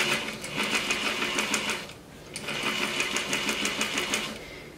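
A sewing machine runs stitching a rolled hem with a rolled hem foot, a steady fast whirring and clatter in two bursts separated by a short pause, close and alone without talk.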